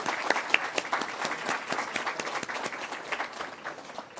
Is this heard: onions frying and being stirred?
no